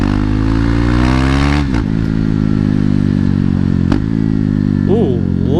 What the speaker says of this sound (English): Ooh, love that downshift.